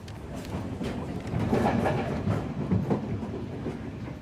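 A Sri Lankan passenger train rumbles along the railway, a steady low rolling roar with soft rhythmic wheel clatter, heard from on board or close by without any talk.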